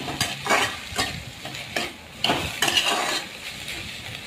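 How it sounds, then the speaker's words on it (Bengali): Susuni saak greens are stirred in a hot frying pan, with a steady sizzle of oil under repeated scraping strokes of a spatula against the pan, close and fairly loud. "শাকটা একটু নাড়াচাড়া করার 2-3 বার নাড়াচাড়া করলে"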